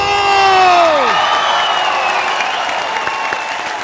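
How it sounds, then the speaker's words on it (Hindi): A studio audience on an Indian comedy talk show bursts into loud applause and cheering with whoops as a superstar guest walks on, while music with a falling tone plays and the noise tapers off slightly. "आप सबकी जोरदार तालियों के बीच में इनवाइट करना चाहूंगा one and only superstar mister Salman Khan."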